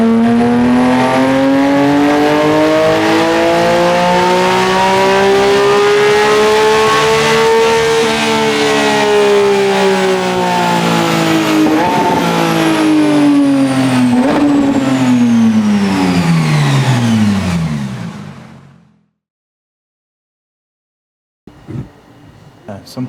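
A DDE-tuned McLaren 720S engine revs loud and close, its pitch climbing and falling through several sweeps as the car accelerates. The roar then cuts off into silence, and a few faint sounds return at the very end.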